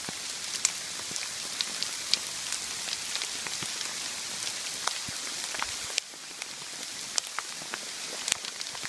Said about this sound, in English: Last night it was pouring rain, now it's hailing on us.